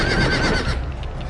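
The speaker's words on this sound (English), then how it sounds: "Try not to get trampled by fucking horses." Horses neigh loudly in a Game of Thrones video game, a brief burst of shrill whinnying with a hint of hooves, fading slightly toward the end.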